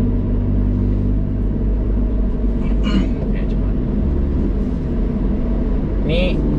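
A Honda Brio Type R accelerates in third gear, a steady, loud low engine rumble inside the cabin with brief faint sounds over it.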